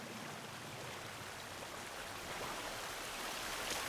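A waterfall in the video game Sons of the Forest, a steady broadband rush of falling water that holds on evenly and swells slightly toward the end, with no talk over it.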